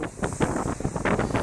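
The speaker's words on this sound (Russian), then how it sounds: "Ветер моща." Strong gusting wind on the Kola Peninsula in the Arctic buffeting the microphone in irregular rumbling bursts, loud and close, with no speech.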